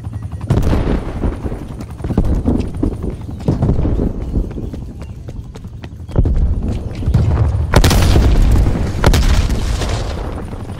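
Explosions and gunfire in Call of Duty: Black Ops multiplayer, VIP Escort mode on the Cartel map, with loud booming blasts and rattling shots piling up densely across the clip, close and heavy, with no talking.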